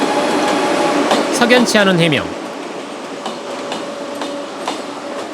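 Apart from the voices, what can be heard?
train running on the Honam line railway track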